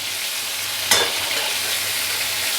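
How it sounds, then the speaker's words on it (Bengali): Eggplant pieces sautéing in hot oil for a hilsa dish, a steady bright sizzle with a sudden louder hiss and clink near the start, continuing evenly afterward. "প্রথমে বেগুনগুলো দিয়ে দিলাম একটু সাঁতলানোর জন্যে।"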